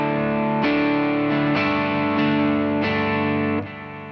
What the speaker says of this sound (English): But here is my just quarter note delay.